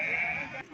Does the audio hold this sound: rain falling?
no